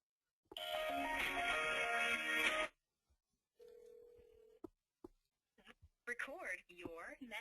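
A 3CX business phone system places a call to extension 101 over speakerphone, with a loud burst of ringing, then a steady single tone, then clicks and a synthesized prompt voice toward the end.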